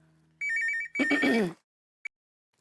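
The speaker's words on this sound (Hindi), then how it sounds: "आया फोन आया।" A telephone rings with an electronic trill, then a short burst of sound follows, and a brief chirp comes after a pause.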